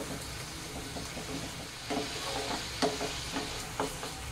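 Fresh chhana cooking with sugar in a pan, stirred steadily with a spatula: a continuous sizzling hiss broken by repeated scraping strokes, close and fairly loud, with no talking.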